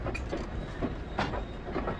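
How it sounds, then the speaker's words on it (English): A steam-era passenger train carries riders toward the Titanic in the Titanic Honor & Glory video game, with a continuous rumble inside the carriage and rhythmic clickety-clack of wheels over rail joints, no speech. "So here we are in the train, on our way to the ship."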